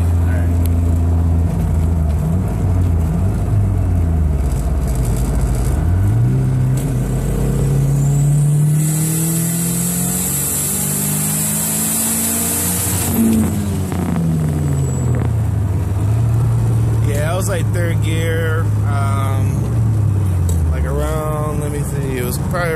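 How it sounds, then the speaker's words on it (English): A turbocharged 1993 Nissan 240SX with a KA24DET engine, Holset HE351 turbo and 20 psi of boost pulls hard in third gear, rising into a loud whine and rushing roar before shifting and easing off, heard from inside the car with talk over it. "I want to do like a little third gear pull."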